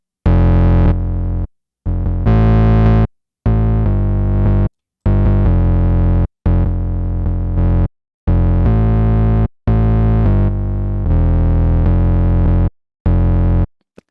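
An 808 bass in a hyperpop production, played as repeated sustained notes with short gaps between them, switching back and forth between a clean tone and a heavily distorted one with added grit and harmonics.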